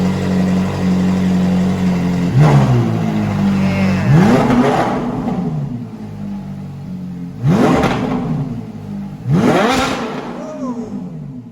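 A Ferrari 458 V8 engine revs hard several times, loud and near, each rise in pitch dropping back to a throaty idle between blips.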